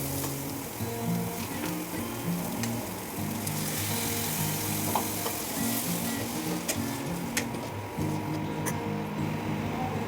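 Ginger garlic paste and ground tomato fry in a pan for mushroom curry, a steady, dense sizzle with faint stirring scrapes running close and continuous, no talking over it.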